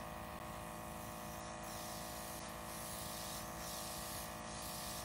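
Pearl-colour edible spray hisses in a steady, continuous burst as a cake board is decorated, a close, even aerosol sound running throughout with no voices.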